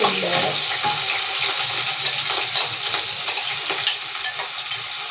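Fried onions tumble into a hot pan of oil, setting off a loud, steady sizzle with a few light scrapes and clinks of a utensil against the pan.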